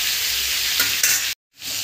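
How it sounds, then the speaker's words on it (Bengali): Chicken leg pieces fry in oil and ghee for butter chicken, a loud, close sizzle with stirring scrapes that cuts out briefly before resuming. "লেগ পিসগুলো দিয়েছি, এগুলোকে আমি আস্তে আস্তে ভেজে নেবো।"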